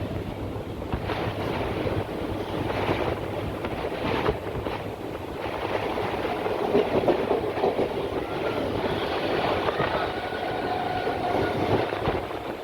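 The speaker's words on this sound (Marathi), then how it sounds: "मी 1 वाजून 5 मिनिटांनी ठाण्याची ट्रेन पकडली आणि आता मला जायचं आहे कोपरखैरनेला" A Mumbai local train from Thane rolls along with a steady rumble and rhythmic clickety-clack of the wheels, heard from inside the carriage with wind buffeting the microphone.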